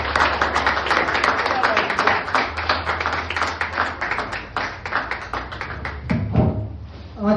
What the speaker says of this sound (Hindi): आंचल भाई की जोरदार तालियां।